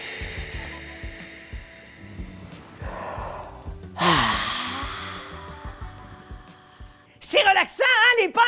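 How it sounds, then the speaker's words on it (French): A deep breath in and out during a relaxation exercise: a long breathy inhale and exhale rise clearly over soft background sound, followed by a burst of lively voices at the end. "on prend une grande respiration pour bien sentir l'odeur du fish and chip et on expire"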